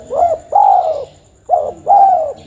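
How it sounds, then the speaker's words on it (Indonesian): A zebra dove (perkutut) coos close by in two matching phrases, each a brief note followed by a longer rolling coo, clear and loud with a pause between them. "Perkutut."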